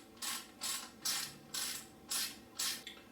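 Ratchet wrench tightening bolts during a Trail Tech fan install on a KTM 300 XC, producing six quick, evenly spaced bursts of clicking pawl sounds, close and fairly quiet.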